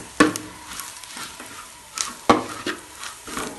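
Spices with Kashmiri chili powder being stirred and sautéed in a pan, with soft scraping strokes and a couple of sharper utensil knocks over a faint sizzle, close and fairly quiet.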